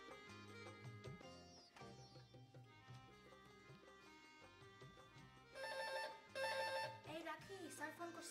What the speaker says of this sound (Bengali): এই রাখি, স্যার ফোন করছে